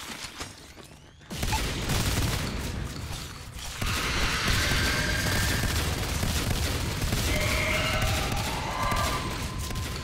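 Marines firing at an alien hive in the Natural Selection 2 video game: after a quiet opening, dense continuous automatic gunfire starts abruptly and keeps going loud and close, with mechanical clanks and hive creaks mixed in.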